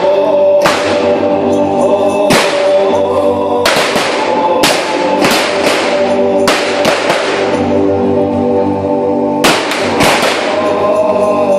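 Rifle gunfire sound effect in a hilltop battle, sharp loud cracks fired singly and in quick pairs at uneven intervals, each one trailing off into a long echoing rumble over steady background noise.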